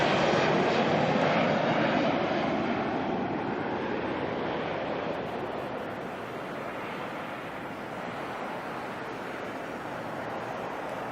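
An Airbus A321neo jet at Auckland Airport, a continuous loud broadband engine roar that slowly fades a little as the aircraft moves away, heard outdoors with no talking.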